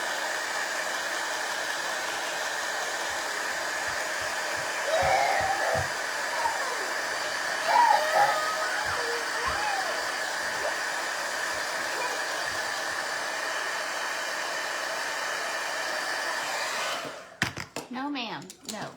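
Hair dryer blowing steadily on painted wooden biscuits being dried for a daisy craft, a continuous loud whir held for about seventeen seconds with a voice briefly underneath, then switching off into a short spoken remark.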